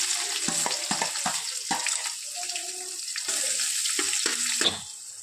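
Finely chopped onion for chicken biryani hits hot oil with cloves, black pepper and cinnamon, giving a steady close sizzle with scattered crackles and stirring clatters.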